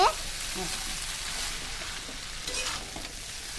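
Continuous loud sizzling of noodles frying in a pan, a dense crackling hiss with faint background voices beneath.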